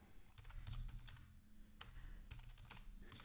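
Typing on a computer keyboard, a soft stream of quick, irregular key clicks at close range over a low background hum.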